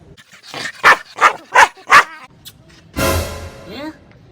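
A dog barks four times in quick, evenly spaced succession, loud and close, followed by a rougher, noisier burst of sound.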